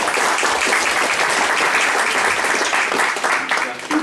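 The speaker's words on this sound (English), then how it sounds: "Give us Pat an applause." Political meeting attendees clap in a room, a fairly loud, even round of applause with some murmured voices mixed in, thinning slightly toward the end.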